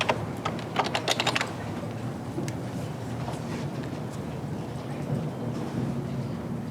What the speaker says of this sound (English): So let's type in flex in there.